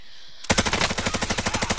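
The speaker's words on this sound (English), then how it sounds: "Was somebody shooting?" Video game gunfire starts abruptly after a quiet moment and continues as a steady, loud automatic stream of closely spaced shots.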